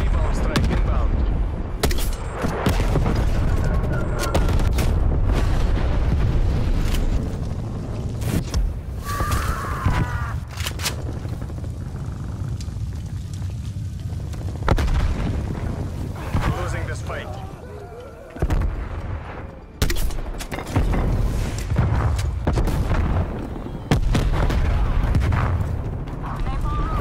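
Incoming airstrike explosions in the Call of Duty Cold War video game, a dense barrage of booming blasts and gunfire rolling continuously and loudly with game voice lines mixed in.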